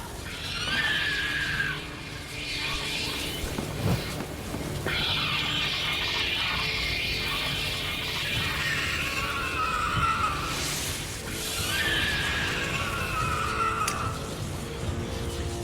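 Horses neigh in a few separate shrill whinnies spread over a steady background of rumble and noise, loud against the mix, with no clear speech.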